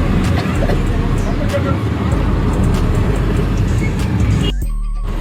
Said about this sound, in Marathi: आता आम्ही निघालोय रिक्षातून स्टेशनला मलाड.